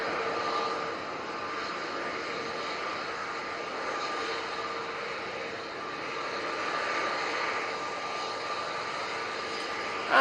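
An Emirates Airbus A380 lands with a steady, loud jet-engine roar that holds for the whole stretch, broad and even with a slight swell near the middle, with no talking over it.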